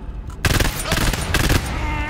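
Rapid automatic gunfire in the co-op shooter GTFO, two loud bursts of fast shots separated by a short gap, close and harsh.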